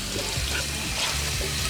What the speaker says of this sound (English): fill it with water, squeeze it out